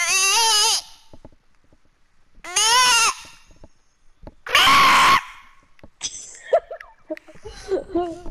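Goats bleating in the Fortnite video game, loud warbling cries in three separate bursts, followed by softer chatter and game noise.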